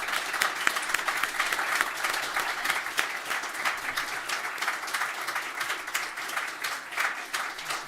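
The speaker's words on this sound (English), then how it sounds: "Please join me in giving a round of applause to our wonderful panel." A conference audience applauds a panel at a political event on London nightlife, steady sustained clapping from many hands filling the room, loud and continuous without speech.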